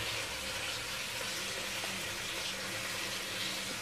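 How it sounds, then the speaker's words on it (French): A glass of water is poured into leftover meat marinade, giving a steady, soft gushing splash that runs continuously for a few seconds. "On va ajouter un verre d'eau."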